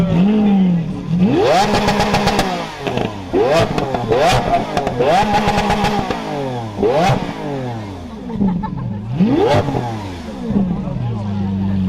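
Lamborghini Aventador SV at a charity rally meet in Lyon, its engine revved repeatedly in loud, rising bursts that climb and fall away, with sharp crackles between revs and crowd chatter underneath.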